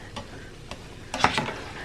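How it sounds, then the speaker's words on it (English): Onion sautéing in a pan for a squash casserole, a soft steady sizzle broken by a few light spatula scrapes and a brief louder stir near the end. "And the onions that I had frozen, or 1 large onion, and saute them."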